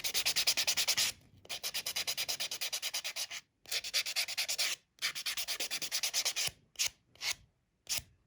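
Fingernails rubbed with a nail buffer in a series of fast back-and-forth strokes, close and clear, grouped into bursts separated by brief pauses.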